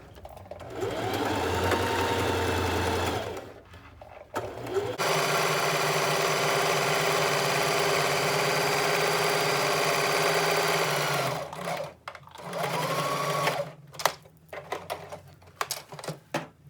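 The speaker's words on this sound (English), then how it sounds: "You're going to stitch a row, cut it off, stitch another row." Sewing machine stitching rows on a beginner sewing project, running in several loud close bursts of fast steady whirring, with short pauses and handling clicks between runs.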